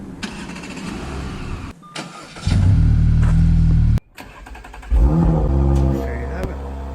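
An Audi engine cranks and fires up through a plug-and-play remote start kit, with loud bursts of starter cranking and idle rumble alternating with brief gaps, close by and fairly loud.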